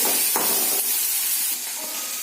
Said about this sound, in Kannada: ಈರುಳ್ಳಿ ಒಂಚೂರು ಸ್ವಲ್ಪ ಒಂದು ಬೇಯೋವರೆಗೂ ಫ್ರೈ ಮಾಡ್ಕೊಳ್ಳಿ